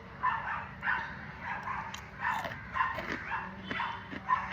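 A dog barks and yips in short bursts at a moderate distance, with a whimpering edge between barks; no one speaks.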